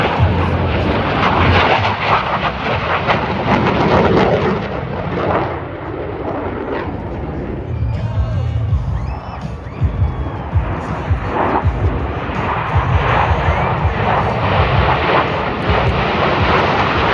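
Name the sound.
airshow aircraft passing overhead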